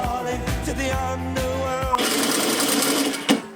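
A sewing machine runs steadily, stitching French seams on the armholes of upcycled shirts, its motor whirring in a continuous close, loud buzz with a few brief pauses and clicks, and no one talking.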